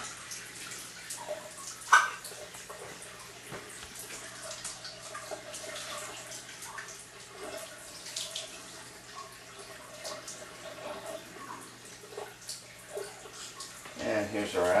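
Alkaline water from an Enagic Leveluk SD 501 ionizer streams steadily into a clear glass. The flow is soft and continuous, with faint splashes and quiet talk nearby.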